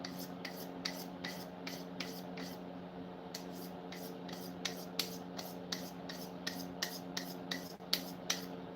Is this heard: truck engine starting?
no